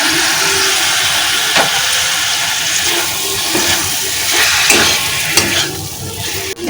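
Fried prawns, pointed gourd and potato sizzling and hissing steadily in a pan, with occasional scrapes and stirs from a utensil, close and continuous with no talking.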